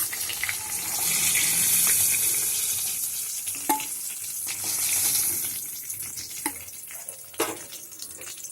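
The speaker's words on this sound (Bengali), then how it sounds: "ডিমগুলোকে ভেজে আমি একটা সাইডে তুলে রেখে দেবো" Eggs frying in oil in a wok, a loud continuous hiss and sizzle that swells and eases, with a few brief sharp knocks of a utensil scattered through, heard close and without talk.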